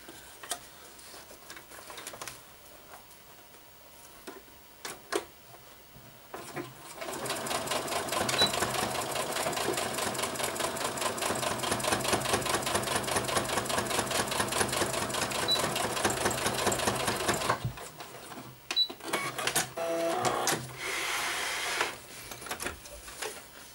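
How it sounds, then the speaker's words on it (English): A sewing machine stitches a fabric hem for a ferret hammock in one steady, fast-ticking run of about ten seconds. Quieter handling noises and brief machine taps come before and after it. "And then sew it up real quick."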